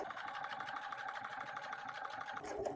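A sewing machine runs steadily, top stitching a zipper through exterior fabric, zipper tape and lining on a dopp kit, with a fast, even mechanical whir and no pauses.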